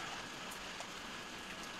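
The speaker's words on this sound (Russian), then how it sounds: "Сегодня прохладно, здесь дождик идет." Steady rain falls in cool weather in Abkhazia, a soft, even hiss of drops on surfaces that continues unbroken and fairly faint.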